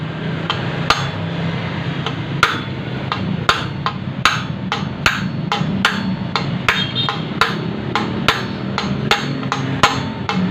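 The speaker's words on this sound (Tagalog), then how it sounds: "Huwag yung gitna kasi sasaluhin ng bulitas yung palo ng martilyo." A hammer drives a bearing into place in a string of about eighteen sharp metallic strikes at an uneven pace, loud and close, against a low background.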